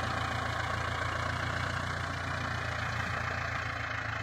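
A Ford New Holland 6610 tractor pushes and levels field ridges while converting orchard land into rice paddies. Its engine gives a continuous low, rumbling drone at an even pace with a faint rhythmic knock, heard alone.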